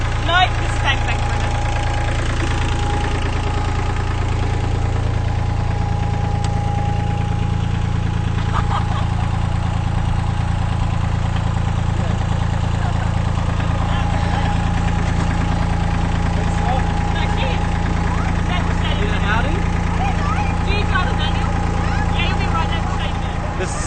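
A farm tractor's engine runs steadily for a long stretch during a Christmas Day ride, a loud, constant low-pitched drone with a slight knocking rumble, and voices occasionally talk over it.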